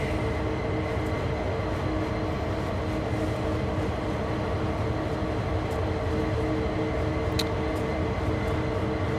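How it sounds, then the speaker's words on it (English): SD42 Co-Co diesel-electric locomotive in a train simulator game, a steady droning engine hum with layered tones running continuously at moderate level, no talk over it. "it is a Coco diesel locomotive, diesel electric locomotive."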